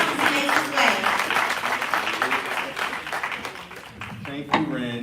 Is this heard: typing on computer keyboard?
no